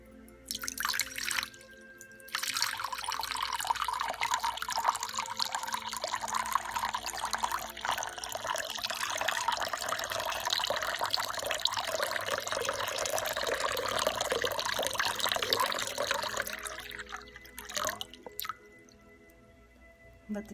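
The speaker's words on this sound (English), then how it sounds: "So as I pour this water, let it wash over your soul and release." Water poured in a steady continuous stream during a calm spoken ritual, a close, sustained splashing and trickling wash lasting most of the stretch before trailing off into a few final drips.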